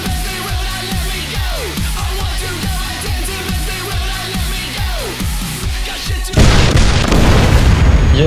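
Explosion and gunfire sound effects for the war documentary series Apocalypse, a rapid string of deep repeated booms and bursts followed by a sudden louder roaring blast that fills the end.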